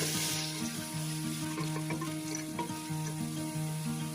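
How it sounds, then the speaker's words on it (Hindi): Chopped medium-size onion sizzles steadily in half a cup of hot oil for a rice dish, a constant soft frying hiss heard beneath louder background music. "एक मीडियम साइज का प्याज को हाफ कप अलिफिल में काट के डाल देंगे।"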